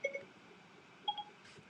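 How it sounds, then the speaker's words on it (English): A mobile phone sounds two short pairs of quiet electronic beeps about a second apart, faint and close, against a soft background hiss. "Oh, my phone keeps going off here."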